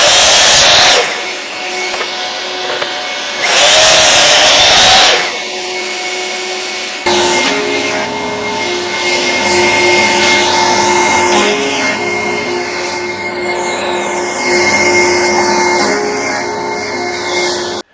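Walnut pieces run through a woodworking thicknessing machine, a loud close roar of motor and cutter with rising and falling grinding surges as the wood feeds through, then a long steady whirring run.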